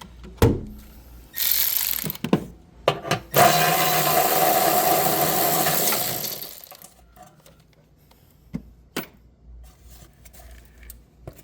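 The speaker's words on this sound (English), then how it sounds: "So I'm going to take that 10mm bolt out, bend the heat shield, and then access the expansion valve." A ratchet clicks and turns on a 10mm bolt near the heat shield and expansion valve of a Mitsubishi Outlander, with one sustained burst of ratcheting in the middle and scattered metallic taps and clunks around it.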